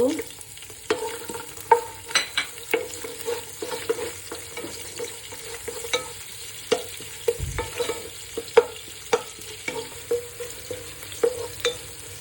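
Chopped onion fries in white oil with cardamom, cinnamon and black cardamom, a steady close sizzle punctuated by regular scraping and tapping of a spoon stirring the pan.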